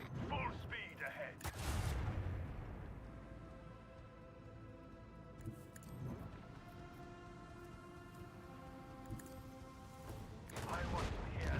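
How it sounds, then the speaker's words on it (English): Macro cannons firing in the space combat of Rogue Trader, a Warhammer 40K video game: heavy booming blasts at the start and end with a sustained rumbling, droning barrage between, under game music. "I want to hear the macro cannons roar."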